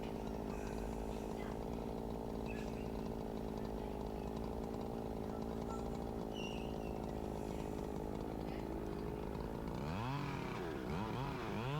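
Chainsaw cutting into a large felled white oak, its engine droning loud and steady close by, rising and changing pitch near the end as the load shifts.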